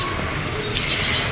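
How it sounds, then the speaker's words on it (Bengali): Small songbirds chirping and calling on a home balcony, light high twitters over a steady outdoor hiss, close by and continuous with no talking. "আর আমার এই যে বারান্দায় মিষ্টি মিষ্টি পাখিগুলো কিচিরমিচির ডাকাডাকি"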